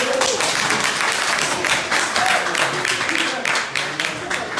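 Audience applause at a political launch event for a movement defending the constitution, a dense steady roar of clapping that runs throughout, with a voice and some tapping mixed in underneath.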